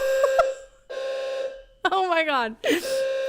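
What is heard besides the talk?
building fire alarm going off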